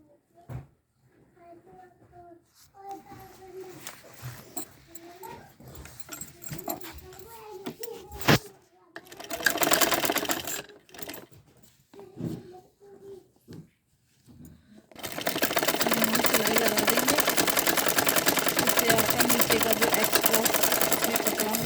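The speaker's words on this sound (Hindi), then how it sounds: "बाकी जो नीचे हमारा एक्स्ट्रा कपड़ा है उसको हम उल्टी तरफ को मोड़कर इसमें सिलाई लगा देंगे" Sewing machine stitching the folded-under hem of a pant leg, with a short burst early on and then a loud, steady, continuous run of rapid stitching dominating the final seconds; a dog whimpers and a voice is briefly heard earlier.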